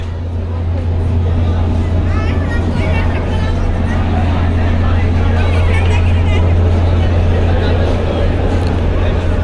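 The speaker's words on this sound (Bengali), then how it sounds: "নটা বেজে আঠারো মিনিট ব্যাক গিয়ার দিয়ে দিল পারাবত বারো লঞ্চ" Parabat 12 river launch reversing in back gear at Barishal, its engine a loud, continuous low drone with a strong steady hum, overlaid by crowd babble and general noise throughout.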